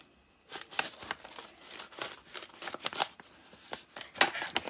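A sealed paper envelope holding old floppy disks is sliced open by hand. Close crinkly cuts and tearing come in quick bursts, with short pauses between strokes.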